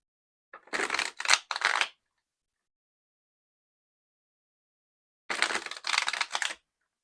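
Tarot cards are bridge-shuffled twice, each a quick riffle of crisp flapping up close, and the bursts are separated by a few seconds of silence.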